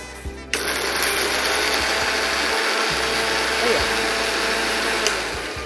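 A mixer grinder whirs continuously as it powders dry prawns for a chutney, a loud motor drone after a brief start-up, with a short pause partway through.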